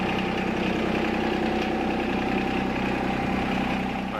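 A John Deere diesel tractor engine idles loudly and steadily close by, with a constant low throbbing rumble that does not change throughout.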